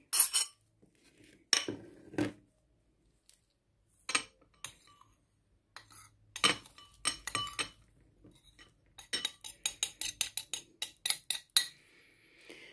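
Ground cloves and broken bay leaf pieces going into a bowl, heard as a scattered run of light clinks and taps against the dish, sparse at first and then quicker and more frequent toward the end.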